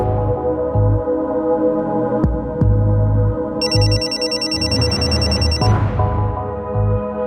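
A mobile phone rings with an incoming call, a bright warbling ringtone that comes in partway through over loud, pulsing dramatic music in a tense crime-drama scene about a kidnapping.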